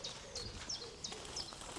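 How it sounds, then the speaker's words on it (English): Several short, high bird chirps and calls break out repeatedly outdoors during a walk, over a steady low rumble of background ambience. "I love hearing the birds."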